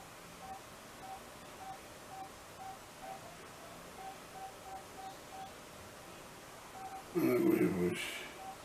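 A cell phone dialing out a call, faint repeated tones pulsing at a steady rhythm over a hissy line, followed by a louder burst of noise as the connection sounds near the end.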